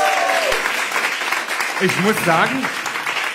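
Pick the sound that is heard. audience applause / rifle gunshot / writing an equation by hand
audience applause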